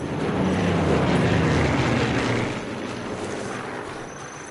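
Propeller planes fly overhead in the shooter video game Sniper Elite 3, a loud broad droning roar that swells then eases down partway through, with no speech over it.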